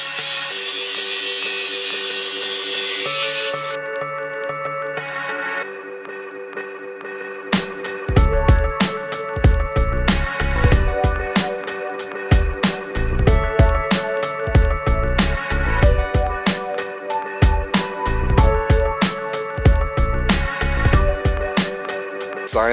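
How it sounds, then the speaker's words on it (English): Angle grinder cutting scooter frame parts during a 50cc scooter build with a 150cc GY6 engine swap, heard as loud, close, rapid bursts of harsh grinding and cutting, starting and stopping repeatedly over a steady background hum. "been going at it with the grinder"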